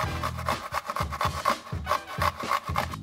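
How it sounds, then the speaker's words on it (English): A piece of cucumber is grated into a mixing bowl of coconut yoghurt for tzatziki, giving close, rhythmic rasping strokes, about a dozen quick scrapes in a steady back-and-forth pattern with no talk. "Next, we're going to grate in about 2-inch piece of cucumber."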